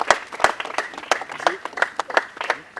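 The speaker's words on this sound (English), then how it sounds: "A round of applause." A round of applause at a Rotary Club of Ikeja event in Lagos, uneven clapping from a modest crowd with distinct individual claps standing out, fairly close.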